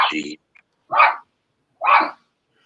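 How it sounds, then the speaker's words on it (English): A dog barks indoors, three sharp separate barks spaced about a second apart, loud and close with silence between them. "Now my dog started to bark."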